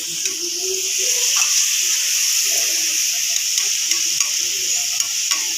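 Potatoes fry in mustard oil with a steady, close sizzling hiss, broken by scraping and clinking as a utensil stirs them through the pan.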